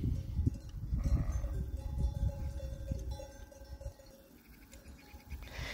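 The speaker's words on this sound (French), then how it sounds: "ça fait plaisir de voir le berger et puis ses moutons passer à cette heure-là" A flock of sheep passes with their shepherd in the afternoon, hooves and movement rustling close by along with faint bleats and a steady tone, with no talking.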